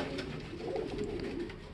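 A pigeon, apparently a trained racing bird, gives a short, close, rolling coo that stays low and continuous over a quiet background.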